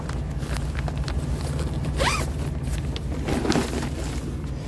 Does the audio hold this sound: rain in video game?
no